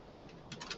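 Typing on a computer keyboard, a quick run of light clicking keystrokes that grows busier toward the end, heard close and fairly quiet with no talk.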